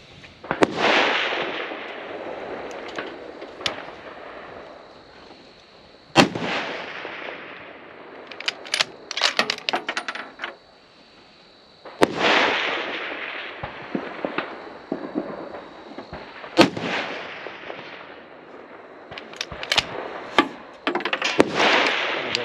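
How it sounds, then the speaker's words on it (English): Rifle shots from a Bergara B14 in a KRG X-ray chassis at a precision long-range session, several sharp, loud reports spaced seconds apart, each followed by decaying rumble, with scattered lighter clatter between. "So I hadn't shot past 100 yet, so these are going to be my first shots."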